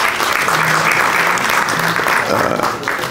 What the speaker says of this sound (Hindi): सफदर हुसैन साहब के लिए भी तालियाँ होनी चाहिए